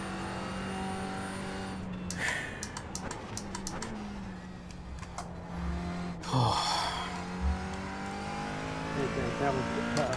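A GT4 race car in a sim racing game at Road America, its engine droning and revving steadily while doing donuts, with a few sharp bursts and a voice talking over it.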